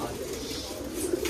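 Pigeons on a pigeon farm coo in soft, low murmurs that carry on steadily through the moment, with a brief rustle near the end and a faint voice in the background.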